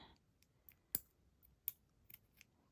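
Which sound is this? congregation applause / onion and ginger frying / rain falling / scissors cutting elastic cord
scissors cutting elastic cord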